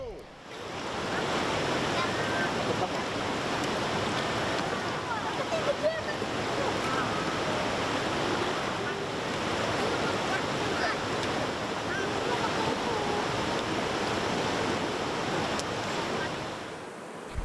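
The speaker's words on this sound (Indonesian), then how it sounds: "Dan aliran sungai yang ada di desa kami ini" Rushing water of a river flowing through a village in the Masurai valley of Merangin, Jambi, a steady broadband wash that stays close and continuous throughout without pause.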